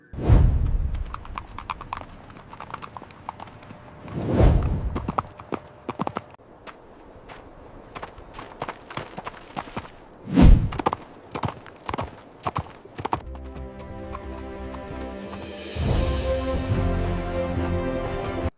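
Horse hooves clip-clopping in an AI-generated horse riding sequence, steady rhythmic hoofbeats with a few whinnies, and music joining toward the end.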